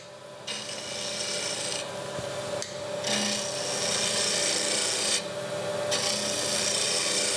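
A wooden vase spinning on a lathe while a tool scrapes a curve into it, giving a steady rasping hiss in long strokes with brief pauses between cuts, loud and close over a low motor hum.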